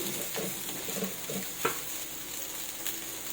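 Fried rice being stirred in a hot pan, a steady sizzle with scraping spatula strokes and a few sharp metallic clinks against the pan.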